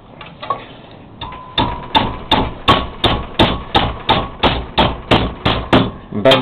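A Nuffield clutch retaining clip is hammered over in a vise: a steady run of about fifteen sharp metallic hammer blows in an even rhythm, loud and close, with no talk.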